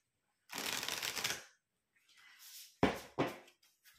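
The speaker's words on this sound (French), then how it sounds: "Je vous sors, pour terminer, une petite carte de la lunologie." Tarot cards being shuffled and drawn, a close riffling burst lasting about a second, then a softer slide and two sharp snaps as cards are pulled and laid down, in a quiet room.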